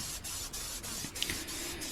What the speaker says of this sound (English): I applied a mold release spray to it before I put the slabs inside of it.